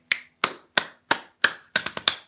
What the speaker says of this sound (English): I naturally started snapping and clapping to it, so I recorded it